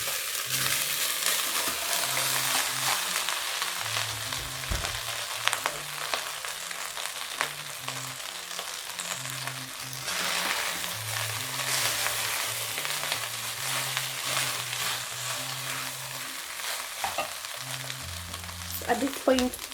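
Beef and vegetable fried rice sizzles steadily in a pot for the whole stretch, with scattered scrapes and clinks of stirring and a low hum underneath; no one speaks.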